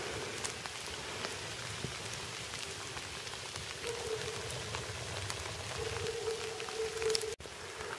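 Steady rain patters on a surface outdoors at a campsite, with dense scattered drops and a soft continuous hiss throughout.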